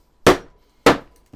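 Two loud, sharp hammer blows drive nails into pallet wood while building a rabbit hutch, about half a second apart, followed by a lighter third tap, close and dry with no talk.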